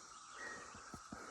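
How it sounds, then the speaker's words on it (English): Cicadas call on an evening in turkey season, a steady high insect buzz holding throughout, with several low thumps near the end. "Oh man, that was some kind of freaky noise the cicadas are putting off."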